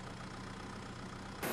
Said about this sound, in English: the H2-Track EOX-175 diesel-electric tractor is a top choice